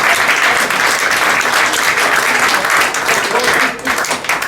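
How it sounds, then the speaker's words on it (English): An audience at a Carlton Town football club presentation evening gives a loud, sustained round of applause, dense clapping that holds steady for several seconds before tapering slightly near the end. "give your round of applause for Dave Fletcher for all the work he did."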